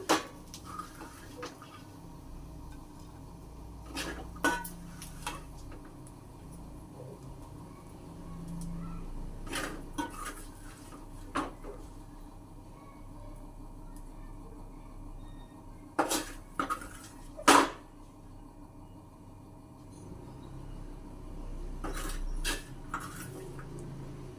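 Fried goat tripe (boti) is moved into a serving bowl with scattered metallic clinks and scrapes of utensils against dishes, spaced irregularly over a quiet kitchen background.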